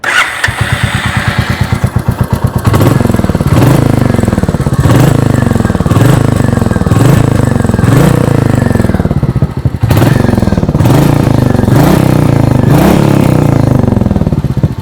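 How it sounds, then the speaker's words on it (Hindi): Royal Enfield Meteor 350 Special Edition single-cylinder motorcycle starting up, then loud, close exhaust thump with repeated blips of revving, each rise and fall clearly spaced over a steady idle beat. "आइए अब सुन लेते हैं इस बाइक की एग्जॉस्ट नोट"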